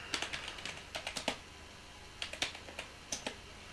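Code being typed on a computer keyboard, quick clusters of close, crisp key clicks with short pauses between bursts, no voice.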